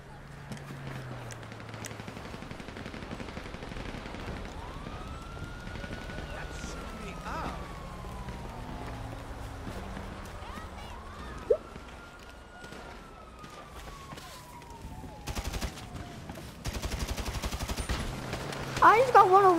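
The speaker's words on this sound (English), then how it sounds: "I think he's using the shotgun." Gunfire from a GTA video game cracks in scattered bursts among siren wails and game noise, while players talk over the action.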